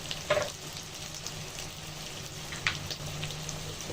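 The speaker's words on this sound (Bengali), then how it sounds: "ভালো করে মশলাটা কষিয়ে নিব" Spices fry with dried lotte fish (shutki) in a pan, giving a soft continuous sizzle with a couple of light stirring clacks, close and fairly quiet.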